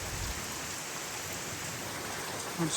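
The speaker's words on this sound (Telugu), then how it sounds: "ఫుల్ వాన పడుతుంది, వర్షం అయితే చాలా పడుతుంది" Heavy rain pours steadily on a farm with small sheds, a dense even hiss throughout with a brief low thump near the end; no talking.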